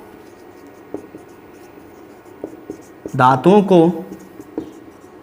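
Chalk or marker scratching on a board during a Hindi-language science lesson on metals and non-metals. Short, faint strokes come intermittently, and a male teacher's voice speaks briefly over them.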